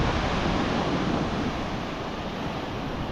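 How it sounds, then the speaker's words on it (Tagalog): Big ocean waves roll and surge continuously, a loud broad wash of surf with wind buffeting the microphone and no talking. "Laki po ng alon, no?"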